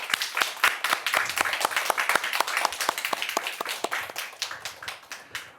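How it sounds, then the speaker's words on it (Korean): A church congregation claps together, a brisk run of many distinct hand claps, fairly close and steady, gradually thinning toward the end with no talking. "하나님께 영광의 박수."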